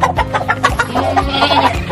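Native rooster on a small farm, clucking in a quick series of short, close calls over a couple of seconds, with no talk.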